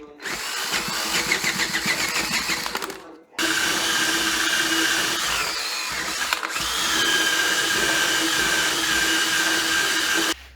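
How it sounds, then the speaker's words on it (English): Inside of a tire on a 1978 Fairmont being ground and buffed with a power tool, a loud continuous whining buzz running in long bursts with brief stops between them. "why in the world do you have to basically grind the tire away?"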